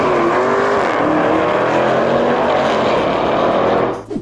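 A 1970 Dodge Charger R/T muscle car with a HEMI engine roars loudly and continuously, its revs swelling and shifting before the sound drops away abruptly near the end.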